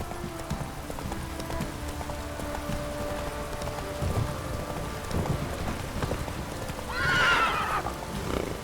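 A horse gallops with steady clip-clop hoofbeats in the open world of Witcher 3: Wild Hunt, over a rain-and-wind ambience, with a neigh rising near the end; no speech.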